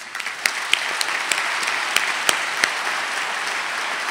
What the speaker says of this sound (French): Je voudrais qu'on les applaudisse.